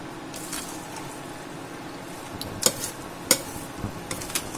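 Carrot halwa being stirred in a kadhai, a spoon scraping and clinking against the metal pan in a few sharp, close knocks over a low steady background hiss.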